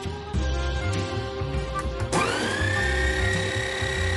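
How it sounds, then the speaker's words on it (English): A Breville Barista Pro coffee grinder runs its burr with a steady, close motor whine. Its pitch shifts and rises into a higher, sustained tone partway through. "I'll run the burr, run the grind, so that the remaining beans can be ground out"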